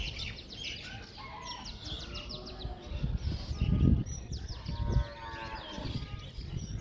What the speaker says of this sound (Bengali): পাখির কি সুন্দর কিচিরমিচির ডাক।